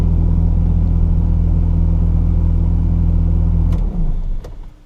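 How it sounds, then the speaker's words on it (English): A Ferrari engine started with the ignition key and immobilizer PIN code runs at a loud, steady, deep idle close by, then cuts out near the end, leaving a few faint clicks. "I've turned the key in the ignition on, and well, you can start your car."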